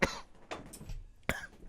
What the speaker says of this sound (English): I'm coughing when I'm drinking.